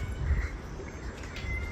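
A cat meows in a short drawn-out call near a house gate after a car is parked, over low background rumble, with no speech.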